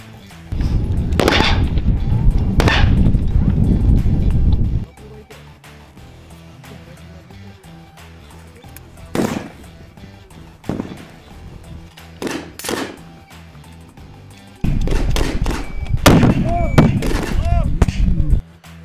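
Rifle shots at a sniper shooting competition held for Independence Day, sharp loud cracks fired in scattered bursts, some close together, with reverberating booms and people talking between shots.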